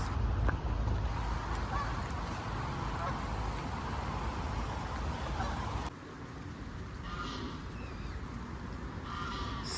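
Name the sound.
ducks and swans quacking and honking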